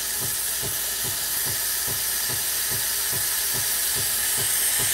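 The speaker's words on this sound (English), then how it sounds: "They indicate that we have the steam mode." A Breville Barista Express espresso machine's steam wand hisses steadily and loudly, with a regular pulsing thump beneath the hiss throughout.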